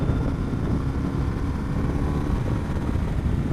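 Engine of a 2015 BMW R1200R motorcycle pulling hard under acceleration, a steady low rumbling drone mixed with wind noise, close and continuous.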